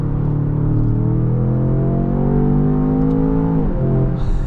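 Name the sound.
Range Rover Sport SV V8 engine revving while driving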